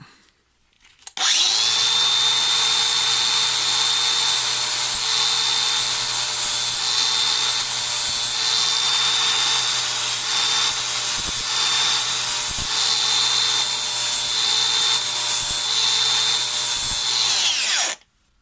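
A 60 grit abrasive on a power tool is sharpening a hedge trimmer blade, a steady loud whirring grind running continuously for about sixteen seconds with a few brief light clicks partway through, then stopping.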